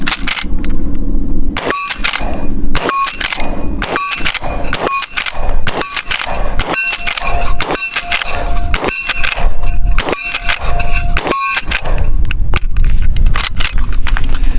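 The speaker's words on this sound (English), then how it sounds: "we'll load up and do some more shooting" A Miroku-made 1873 Winchester saddle ring carbine is loaded and fired, producing a rapid series of loud, sharp metallic clacks and impulsive reports close by, with brief gaps between them.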